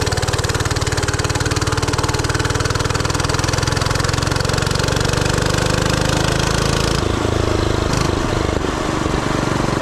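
A gas-powered Oryxearth 105cc mini bike engine runs loud and close the whole time, a steady buzzing drone that shifts in pitch partway through as the clutch engages.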